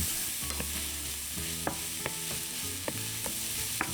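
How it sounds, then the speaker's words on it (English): Salted onions softening in a pan, with a close, steady frying hiss under regular spoon scrapes and taps. "then we cook them for about 5 minutes until they're soft but not brown"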